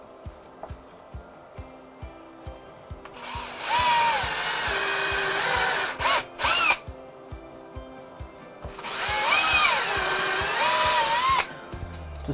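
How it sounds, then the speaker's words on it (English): A power drill fitted with a pocket-hole bit boring into oak for a Japanese-style stave bench, with two loud whining bursts of drilling separated by a short pause and clicking handling sounds, close by, no talk. "All I'm going to do is screw a shallow depth just so I can recess the head of the screw."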